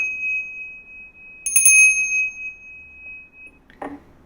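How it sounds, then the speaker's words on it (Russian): A small altar bell at a home altar gives one bright, clear ring that shimmers and fades slowly, with a sustained high tone before and after, then a soft knock. "Сначала я звеню в колокольчик"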